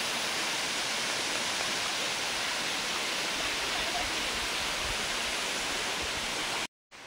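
Monsoon water rushes down a waterfall in a steady, broad, loud roar that fills the whole stretch, broken only by a brief gap near the end.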